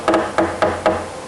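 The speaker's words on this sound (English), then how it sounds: "that's to absorb the impact of hammering the frets on" A hammer drives frets into a guitar neck that rests on a bag of lead shot, four sharp, close knocks at an even pace, each leaving a brief ringing tail.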